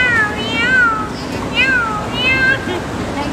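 A cat meows several times in short rising and falling calls, close and fairly clear, against a steady background wash, with a person speaking softly between the meows.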